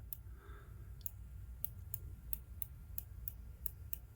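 A 120-click unidirectional bezel on a QM Platoon watch is turned in short bursts, giving crisp, faint, close-up ticks at a fairly even pace in a quiet room.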